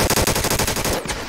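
Rapid automatic gunfire in a video game war roleplay, a loud close burst of evenly spaced shots that cuts off abruptly near the end.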